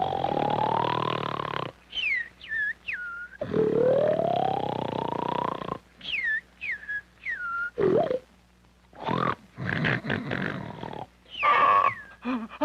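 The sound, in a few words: snoring in an old 16mm film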